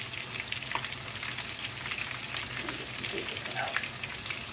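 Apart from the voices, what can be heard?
coconut shrimp frying in oil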